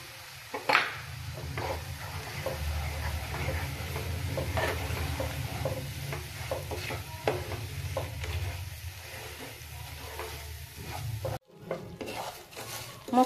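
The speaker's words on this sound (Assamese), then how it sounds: "এতিয়া মই চুজিখিনি দি ভাজি লওঁ।" Semolina fries over low heat in ghee with cloves, cardamom and bay leaf while a spoon scrapes and stirs it in the pan. The soft, steady sizzle sits under repeated close scraping strokes, with a brief break near the end.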